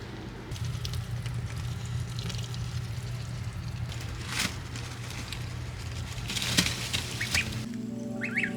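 Ducklings preen in their brooder with soft rustling and faint shuffling, a few light peeps and splashy flicks rising now and then over a low steady hum.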